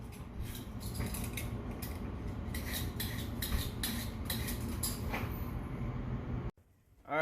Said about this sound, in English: cut and peel all your veggies.